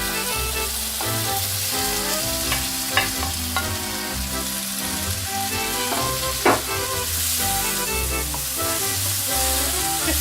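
Beef frying in a pan with tomatoes, giving a steady, close sizzle that runs throughout, with occasional stirring scrapes and clinks and no talk.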